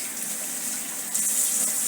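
Kitchen tap running steadily for hand washing during cooking, a continuous close water rush with a slight surge partway through, no talk.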